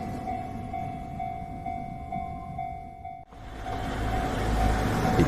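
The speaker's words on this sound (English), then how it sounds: "as the train pulls into his home station." A train pulling into a home station, a steady mechanical rumble with a sustained tonal hum that cuts off briefly before a louder, rougher rumble of the train rolling in, close and continuous, with no voices.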